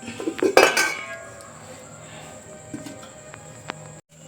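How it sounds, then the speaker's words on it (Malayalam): Metal lid clattering onto a pot of simmering paneer masala, a sharp close clink and rattle near the start, then a quiet bubbling hum with a few faint taps. "ഇനി ഇതൊന്ന് നമുക്ക് തിളക്കിയിട്ട് നല്ല അടച്ചു വെച്ച് കൊടുക്കാം."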